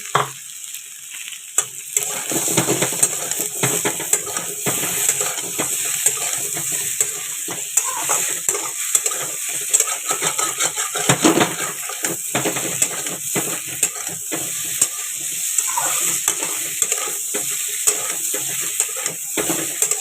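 Lentil dumplings (bori) and potatoes fry in a hot pan with oil, giving a steady, close sizzle for the whole stretch, broken by frequent scraping and stirring clatters.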